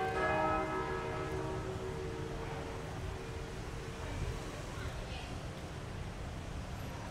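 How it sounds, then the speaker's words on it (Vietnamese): Church bells ring out at Hanoi's St. Joseph's Cathedral, several loud sustained tolls overlapping at the start and slowly fading into a wash of outdoor crowd and street noise, with voices faintly present. "Là một tiếng chuông nhà thờ các bạn."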